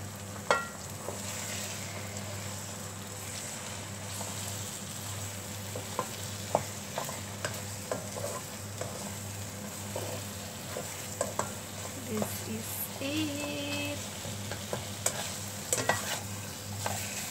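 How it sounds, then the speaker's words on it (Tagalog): Egg stir-fries with tomato and shrimp in a pan, a soft sizzle running under intermittent scraping and tapping stirs, fairly quiet and close. "Then, let's add the egg."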